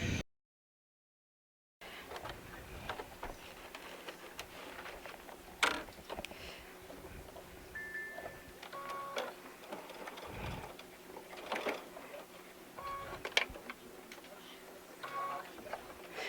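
Sewing machine stitching through very thick fabric, quiet mechanical whirring in short bursts with ticking clicks, under occasional talk after a brief silent gap.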